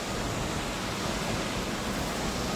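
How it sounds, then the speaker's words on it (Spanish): The Dora waterfall between Chile and Argentina roars in a dense, unbroken hiss of rushing water, loud and steady throughout with no talk over it. "Qué linda la cascada, ¿te gustó?"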